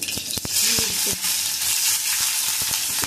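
Cumin seeds sizzle and crackle steadily in hot ghee as a tempering for a fasting-day thali, close and loud, with a few soft stirring clinks over the continuous frying hiss.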